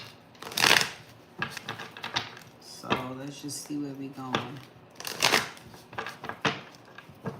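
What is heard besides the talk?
shuffling tarot cards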